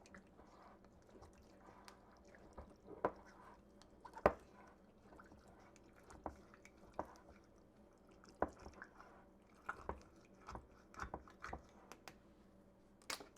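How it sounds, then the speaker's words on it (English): A utensil pokes and stirs inside a canning jar of venison topped with water, releasing trapped air: soft wet squishes and clicks repeat irregularly, close and quiet. "I'm going to have to debubble big time to make all this liquid go down."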